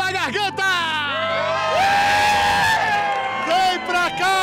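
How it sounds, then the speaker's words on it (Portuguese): A crowd at a prize-draw event shouts and cheers, a loud, dense roar of voices and whoops that swells and holds throughout, with voices calling out above it. "agora é hora de ver o grito saindo da garganta"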